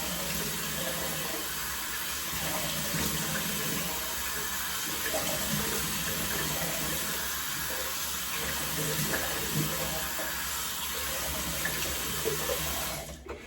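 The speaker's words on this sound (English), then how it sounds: "let's go ahead and splash a little bit more water on the face" Water running into a sink during shaving, a steady stream and splash of water as it is scooped up and splashed onto a face, constant and close for most of the stretch before it stops abruptly at the end.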